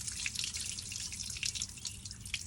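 Water drips steadily inside the trunk of a Mercedes CL500 W215, a quick run of small splashing drops over a low background hum, close and fairly loud with no talking.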